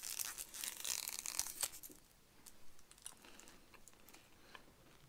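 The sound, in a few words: opening and chewing gum from an MRE ration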